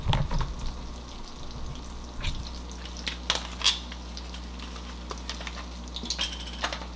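Two eggs fry in a pan with a steady close sizzle, broken by a few sharp clinks of a utensil against the cookware; no one speaks.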